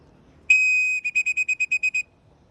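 A pigeon-calling whistle rings out loud and close: one long steady blast, then about nine quick, evenly spaced short toots in a rapid rhythm, followed by quiet.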